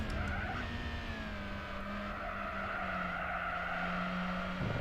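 Tyres of a Mazda MX-5 in Gran Turismo 4 squeal and skid steadily through a hairpin at Twin Ring Motegi, a sustained tonal screech layered over a droning engine note, loud and continuous for several seconds with no talking.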